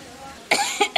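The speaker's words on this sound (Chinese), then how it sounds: "你这咳嗽怎么又严重了？" An elderly woman indoors gives a short burst of harsh coughs, two or three rough barks in quick succession, close and loud after a quiet moment.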